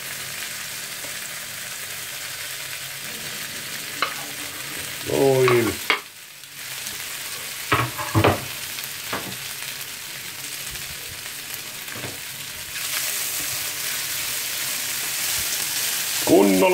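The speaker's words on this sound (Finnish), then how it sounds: "Kunnolla paistaa" Four frankfurter sausages fry in a pan, leftovers being used up in an Easter pan dish, with a steady sizzle running throughout and several scraping stir strokes, while a voice speaks briefly over it.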